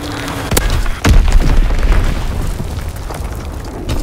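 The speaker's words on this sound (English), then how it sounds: "Enemy bomb incoming! Get to cover!" A bomb blast in the Call of Duty: WWII Pointe du Hoc match hits as a loud, deep boom, with a second heavy explosion about half a second later and a rumbling, crackling tail of battlefield debris.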